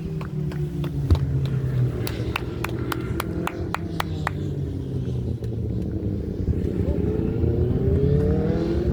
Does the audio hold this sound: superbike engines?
yes